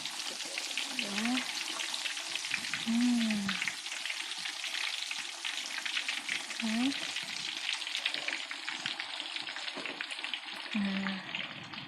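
Chicken frying in a pan with spices, heard as a steady crackling sizzle with brief bursts of speech in between.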